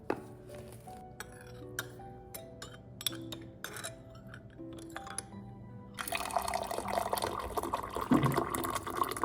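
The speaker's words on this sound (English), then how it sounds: "Into the second mug, I poured a serving of theraflu" Liquid Theraflu cold medicine poured into a mug, heard as a string of glassy clinks and taps followed by a steady splashing pour that grows louder near the end, close and with no talking.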